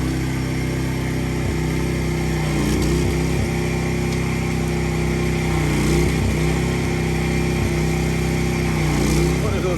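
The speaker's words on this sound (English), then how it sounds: "Got the pressure washer in and running." A pressure washer runs steadily in a shop while a Kenworth truck frame and a dirty trailer are being cleaned, a loud continuous engine drone with a wavering pitch that holds for the whole stretch.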